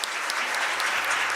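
Dense, steady applause fills a conference hall as an international intellectual property court conference opens, loud and continuous with no clear gaps throughout.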